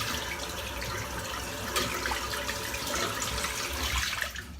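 A shaving brush rinsed under a running tap, with a steady, continuous rush of water splashing into a sink that holds for several seconds and then eases off.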